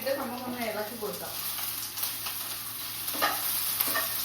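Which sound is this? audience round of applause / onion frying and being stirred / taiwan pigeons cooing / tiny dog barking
onion frying and being stirred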